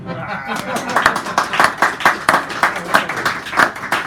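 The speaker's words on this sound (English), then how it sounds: "Okay, you can clap." Audience clapping at a poetry hour in a San Francisco cafe, a small group giving close, uneven handclaps in loose bursts for about four seconds, with some voices among them.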